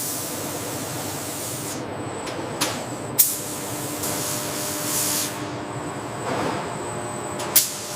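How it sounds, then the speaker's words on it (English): Primer coat sprays onto skeleton bones on a factory line, a steady hiss of spray with several sharp bursts and clanks over a continuous mechanical background. "A primer coat is applied first, creating a smooth base that enhances adhesion for the upcoming color layers."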